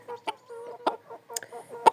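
Young roosters and hens cluck nearby in short, choppy bursts, several birds overlapping, with a few sharper squawks rising above the steady clucking.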